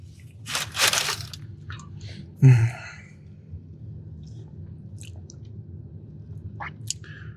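Crunchy Doritos Locos Tacos Supreme being eaten at a fast food mukbang, with a loud close bite around the middle, then quieter chewing and small mouth sounds over a low steady hum.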